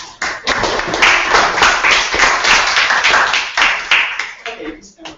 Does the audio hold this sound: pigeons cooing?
no